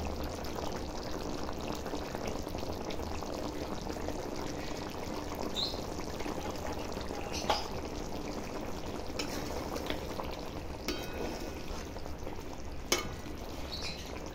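A pot of jackfruit kofta curry simmers on the stove as ghee is added, giving a steady, close bubbling sizzle throughout, with a few faint clinks and brief splashes.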